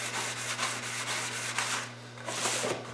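Light hand sanding of primer on a wheel cover, soft repeated rubbing strokes in a quick back-and-forth rhythm over a low steady hum, close and fairly quiet.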